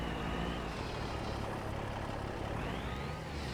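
A long-nosed Peterbilt truck loaded with hay maneuvers in a farming game, giving a steady, loud diesel engine drone with a rising whine near the end and no voices.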